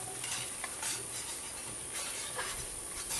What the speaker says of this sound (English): So we're going to stir this down.